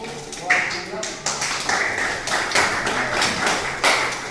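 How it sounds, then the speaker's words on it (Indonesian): Scattered hand clapping from a classroom audience during a geography lesson, uneven taps coming in bursts, with voices talking over and between the claps. "Kita berikan tepuk tangan"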